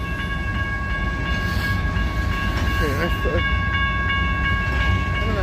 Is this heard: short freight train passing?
yes